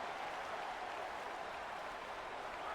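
Stadium crowd roaring steadily in a college football video game after a big third-down play, a dense, sustained wash of cheering with no breaks.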